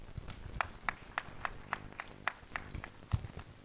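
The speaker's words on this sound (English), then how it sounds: "Let's give him a better clap." Audience at a water quality management symposium clapping: a faint, sparse run of about a dozen separate claps at a steady pace, thin and distant rather than a full ovation.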